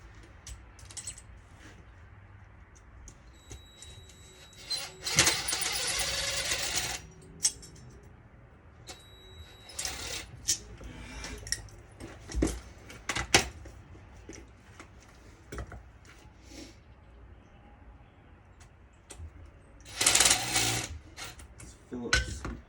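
Power driver with a worn Phillips bit backing screws out of a transformer or ballast being scrapped for copper, aluminum and steel: bursts of whirring and rattling spin-outs, with two longer loud runs between clicks and clatter.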